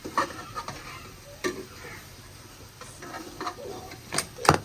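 A spoon stirs okra with spices in a cooking pan, giving scattered light scraping and clinking taps against the metal over a faint background hiss.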